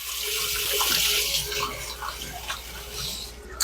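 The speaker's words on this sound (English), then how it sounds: "I'm going to rinse my hands real quick." A kitchen tap runs steadily into a sink while hands are rinsed, a close, bright hiss of water with small splashing changes, no voices.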